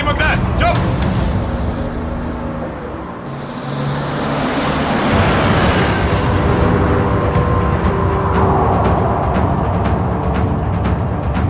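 A car driving in a scene from the CID crime drama: a steady engine and road rumble fills the scene, and people talk over it.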